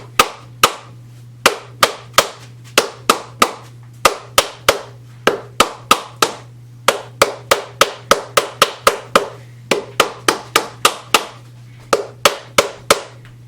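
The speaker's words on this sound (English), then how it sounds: "you want to give that a whack? Just evenly on both sides." Steady run of sharp hammer whacks on a workbench part during a workbench build, struck evenly on both sides in quick, regular bursts with brief pauses, loud and close over a constant low hum.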